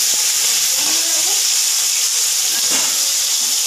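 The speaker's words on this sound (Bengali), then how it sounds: "এক এক করে মাছগুলো দেখো তেলের মধ্যে আমি দিয়ে দিই" Constant hot-oil sizzle of amudi fish frying, a dense steady hiss with faint occasional bubbling and no voices.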